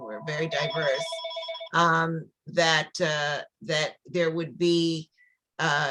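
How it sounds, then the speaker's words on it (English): A telephone rings with a steady electronic warble at the start, overlapping someone speaking at a community town hall, then the ringing stops while she keeps talking. "sorry about the phone"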